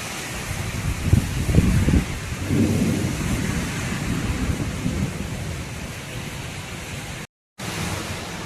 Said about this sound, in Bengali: আর কি জোর বৃষ্টি হচ্ছে দেখতে পাচ্ছ, এই দেখো বৃষ্টি হচ্ছে